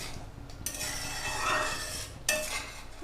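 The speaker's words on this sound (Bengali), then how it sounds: "আমরা 1 চামচ ধনে দিয়ে দেবো, ধনের গুঁড়ো করা, দিয়ে একটু ভালো করে নেড়ে নেব" Egg curry gravy with coriander powder stirred in a pot makes a soft continuous scraping sizzle, with a couple of brief utensil scrapes standing out.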